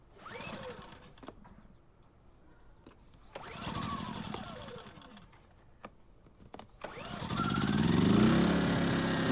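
A dual fuel generator set to propane mode with the choke on is cranked with several pull-start rasps and short bursts, then catches and settles into a steady running drone, close and moderately loud.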